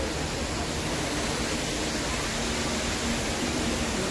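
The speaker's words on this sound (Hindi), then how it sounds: "देखिए कितना प्यारा झरना है" A waterfall at Rambara on the Kedarnath trek roars as a dense, steady broadband rush, loud and unbroken throughout with no voices.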